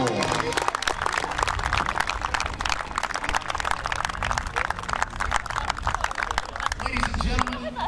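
Outdoor crowd at a high school baseball senior recognition applauding a graduating player, steady dense clapping with scattered cheers, while an announcer speaks over it.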